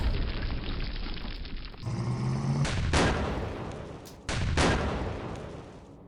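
Gunfire in the wartime strategy game Campaign Series Rising Sun, a few heavy blasts that boom and tail off under a loud, dense rumble.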